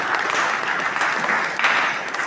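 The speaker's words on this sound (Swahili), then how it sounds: "Tumpigie Bwana Yesu makofi." A church congregation claps for Jesus in a sustained, dense round of applause. The clapping fills the room evenly and continues throughout.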